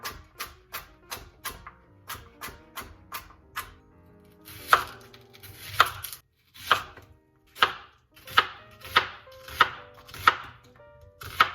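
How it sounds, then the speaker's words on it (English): Vegetables for creamy tomato soup chopped on a cutting board with a knife, sharp close knocks in a quick steady rhythm, then pausing and resuming in slower, louder strokes with no talking. "I have all my vegetables chopped now"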